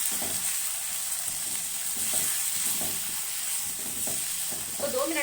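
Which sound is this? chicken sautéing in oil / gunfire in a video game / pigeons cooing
chicken sautéing in oil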